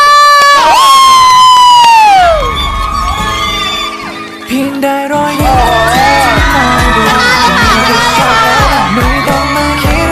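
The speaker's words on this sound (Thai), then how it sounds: "ขอเสียงปรบมือต้อนรับเดอะ a กงอ้อมซซีีพีค่ะ" Crowd at a university open house cheers loudly to welcome guests, with shrill shouting, whoops and music-like tones dominating far more than clapping, loud and continuous.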